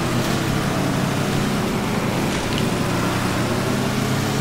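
A toy car accelerating in the racing game Table Top Racing, a steady loud engine drone with broadband rushing noise, constant throughout with no voices.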